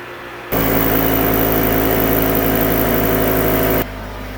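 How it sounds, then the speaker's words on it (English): An air compressor feeding a sugarhouse filter press for maple syrup kicks on abruptly, runs as a loud, steady mechanical drone for a few seconds, then cuts off, leaving quieter background hum. "There I was just turning on the air compressor for the filter press."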